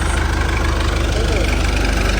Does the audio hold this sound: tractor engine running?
yes